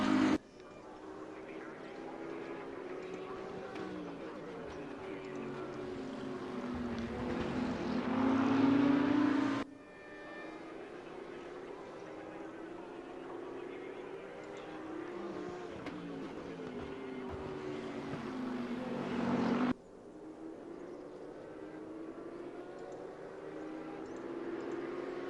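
Race cars in a racing video game climb the hill at Mount Panorama, with a steady engine drone that rises and falls in pitch and is cut into sections by abrupt breaks.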